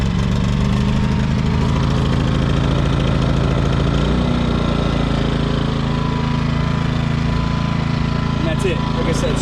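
A Craftsman 2500i portable inverter generator runs after a pull start, its small engine droning steadily and loudly with a brief shift in pitch partway through as it settles.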